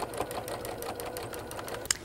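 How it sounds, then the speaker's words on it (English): A sewing machine stitches along the seam of a pinned puff pillow seat cushion, running steadily and close by with a rapid even needle rhythm, a brief sharp click near the end. "we're just gonna stitch along the seam"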